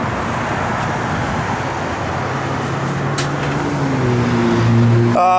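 A 1969 Chevrolet Camaro SS with a mid-60s 396 V8 and a Holley four-barrel rumbles at a loud, steady idle nearby, its deep tone rising briefly toward the end.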